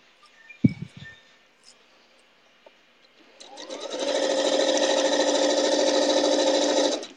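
A sewing machine stitches a log cabin quilt with pins in the seam, starting after a few soft handling knocks and then running in a steady, close, even hum.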